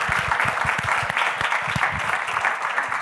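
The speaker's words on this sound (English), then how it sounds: "Big round of applause for our panelists" An audience at a panel session on generational shopping applauds the panelists, a full, steady round of clapping heard on its own.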